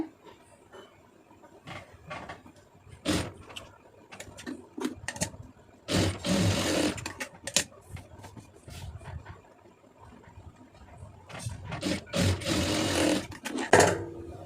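A sewing machine stitches a blouse in short, loud bursts of rapid whirring separated by pauses and small handling clicks, with no talking.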